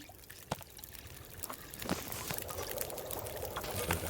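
Water pours in the survival video game The Long Dark, a faint steady trickle and splash at low volume, with scattered soft clicks and no talk.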